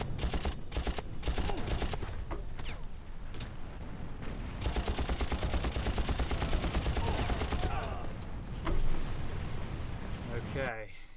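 Gunfire and rockets in the video game Far Cry, with dense bursts of assault rifle and machine gun fire, booming explosions and rapid volleys that pile up loudly and continuously.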